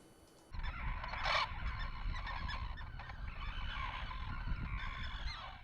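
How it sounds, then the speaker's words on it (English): Recorded goose honks play from a speaker on a small island, repeated loud honking calls that start abruptly and continue over an outdoor background of wind and water. "A speaker making bird noises"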